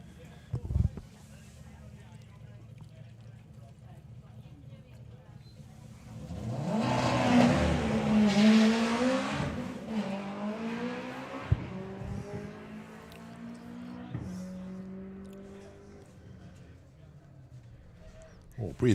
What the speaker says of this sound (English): a time trial run from Emma Goddard with the Integra